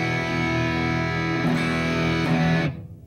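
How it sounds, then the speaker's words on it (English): A distorted electric guitar chord drones thickly through an amp, with a couple of re-strums before it stops abruptly. "And then to get it distorted, crank up that first preamp"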